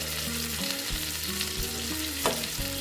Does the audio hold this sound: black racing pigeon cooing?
no